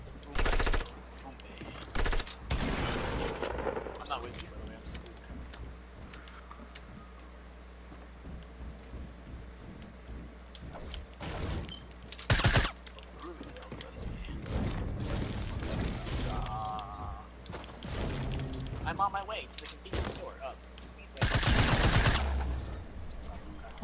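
Rapid drum gun bursts from a video game battle, loud automatic fire in several separated volleys with quieter stretches between, mixed with game effects and occasional player talk.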